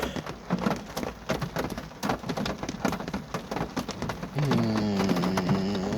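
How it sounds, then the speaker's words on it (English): Heavy rain pouring down at a graveyard, a dense close hiss of drops and patter spattering on surfaces without pause, joined near the end by a sustained tonal sound. "how the fuck is it still coming down so hard, but not fast? Well, actually, I've heard this kind of rain before"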